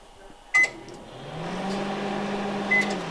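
A microwave oven heating an egg beeps once, then settles into a low, steady running hum, with a second short beep near the end.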